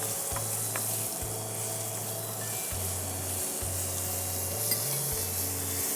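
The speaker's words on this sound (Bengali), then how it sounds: "আমি এখানে একটু 1 চামচ রসুন বাটা দিয়ে দিলাম। ওকে। রসুনটা একটু কষিয়ে নেই" Garlic paste sautés with onions in a pan, making a constant dense sizzle close by, with a low hum running underneath throughout.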